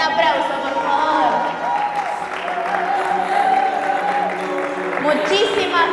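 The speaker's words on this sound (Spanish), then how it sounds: "Un aplauso, por favor." Applause and crowd noise honoring the padel champions at a Masters fourth-category tournament award ceremony at Madison Paddle, steady clapping through the whole stretch with voices mixed in.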